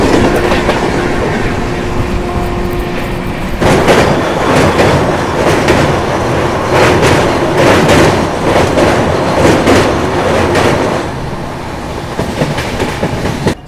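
The Banglabasi Superfast Express rolls through on an Indian rail journey, a loud continuous rumble with rhythmic clickety-clack of wheels over rail joints, growing heavier midway and lasting throughout.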